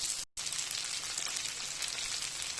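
Fish coated with besan and lemon fries on its second side in a pan, a steady soft crackling sizzle with a brief cut near the start.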